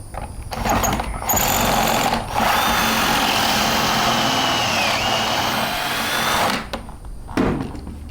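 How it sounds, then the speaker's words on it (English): Pocket hole being bored with a special Kreg jig bit into a piece of wood clamped in the jig, a loud steady drill whine running for several seconds before winding down, with brief pauses at the start and end. "you drill a pocket hole."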